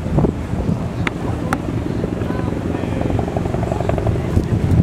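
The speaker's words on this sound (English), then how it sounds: "it will be hoisted down into the water by the helicopter" A rescue helicopter hovering over water at an air show in Toronto thumps and roars continuously nearby, mixed with gusty wind buffeting the microphone.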